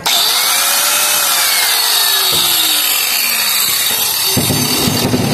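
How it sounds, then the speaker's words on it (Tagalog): Angle grinder plugged into a newly installed GFCI outlet runs steadily and loudly close by, a constant high whine. The motor tone swoops as it spins up and settles. "Sige, try tayo isang grinder."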